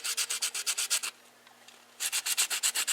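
100 grit sandpaper rubs back and forth on a plastic arm in quick, even strokes, close and clear, with a short pause midway before the strokes resume.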